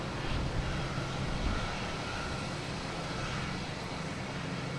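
Steady, broad roar of a jet airliner on the runway at Boston Logan airport, heard from a distance with wind-like rushing and a low rumble that holds at a constant level with no one talking.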